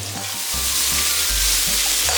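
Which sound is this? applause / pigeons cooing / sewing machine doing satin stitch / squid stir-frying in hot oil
squid stir-frying in hot oil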